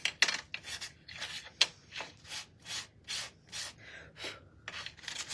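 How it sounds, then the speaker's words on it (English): Edges of a wooden heart key sign are hand-sanded in about ten even, rhythmic back-and-forth strokes, close and fairly loud, with no voices. "Just sanding the edges down."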